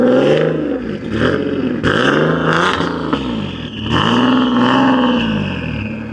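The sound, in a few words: turbo sports car engine revving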